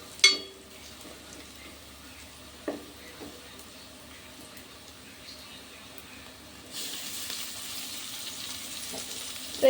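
Fish added to a hot pan with onion paste for an Andhra-style cheera menu curry sets off a faint crackle, a few clicks and clatters, then a steady, louder sizzle rising in the last few seconds.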